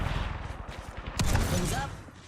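Rapid gunfire in a video game, a quick volley of sharp, close shots followed by a heavier burst, with some voice-like sound mixed in.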